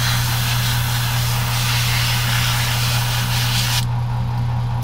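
A Gaahleri GHAD-39 airbrush sprays paint onto a small Warhammer figure with a loud, steady hiss over a constant low hum, cutting off abruptly near the end.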